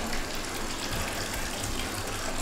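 Hot water gushes steadily into a bathtub, a continuous close, broadband rush with no pauses and no voices.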